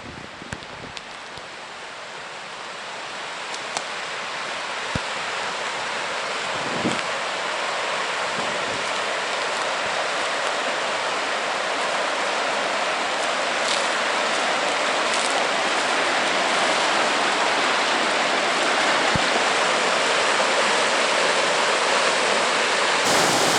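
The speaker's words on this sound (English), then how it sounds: "look at the stream behind me here" A wild stream flowing beside the Vindel River gives a steady, broad rushing wash of water, constant and fairly loud throughout, with no voices.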